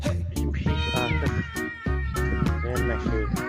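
A cat meows close by in a rapid string of loud, drawn-out calls with only brief gaps between them.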